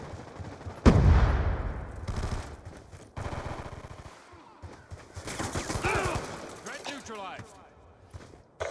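Automatic gunfire bursts and single shots in a Call of Duty Black Ops II multiplayer match, a heavy blast near the start then rapid rattling volleys, with voices talking over the shooting throughout.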